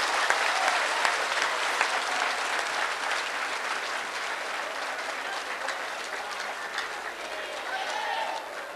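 A large audience at a Kumbh festival stage event in Haridwar claps loudly and continuously, a dense, steady roar of applause filling the whole stretch.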